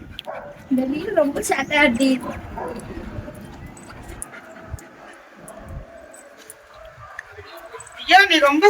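Dog whimpering with yips and whines near the start and a burst of yelping at the end, heard close, with people talking over it.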